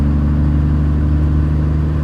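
A 700hp Cummins diesel truck engine with 250% injectors droning steadily while driving down the road, a loud constant low rumble and whir from inside the cab with no talk.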